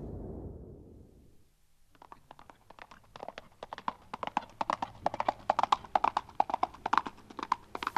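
A horse's hooves beat on the ground in Mongolia, a rhythmic clip-clop that starts after a brief wind-like rumble and grows steadily louder and faster as it comes closer.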